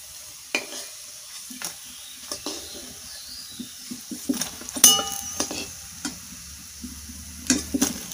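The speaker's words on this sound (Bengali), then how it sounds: "চপগুলো ভাজার জন্য আমি আঁচ কিন্তু এখানে একদম কম রেখেছি" Onion fritters (pyajer chop, onion pakoda) fry on low heat in oil, a gentle sizzle under scattered clinks and scrapes of a utensil turning and lifting them, close by, with no talking.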